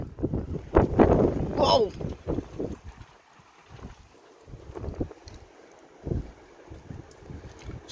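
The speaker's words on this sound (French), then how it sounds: "En ce moment, il y a des vents de plus de 80 km/h, ben 44 km/h en rafale" Strong north wind with gusts over 80 km/h buffets the microphone in loud, uneven roaring bursts that ease off and return, while a person exclaims and talks over it.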